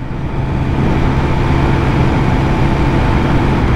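Triumph Speed Triple 1200 RS motorcycle engine held at constant throttle around 2,500 rpm while riding in town, a loud, steady low drone that stays unchanged throughout with no speech.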